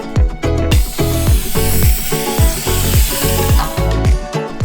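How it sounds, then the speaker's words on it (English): A steady hissing of cooking spray onto baking pans runs for several seconds, loud and close, over a pulsing musical beat in the background. "Now let's spray both of our pans."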